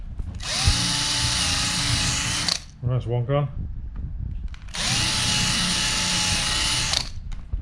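A power drill whines steadily for a couple of seconds while drilling out plastic heat stakes on a Ford Sierra door mirror, stops as someone speaks briefly, then drills again at a high, even pitch.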